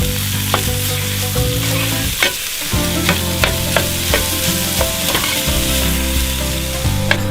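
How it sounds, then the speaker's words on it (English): Ground venison browning in melted butter in a pan, a loud close sizzle with repeated scraping stirs of a utensil through the meat, no talking. "we're gonna drop this ground venison in and start browning it up"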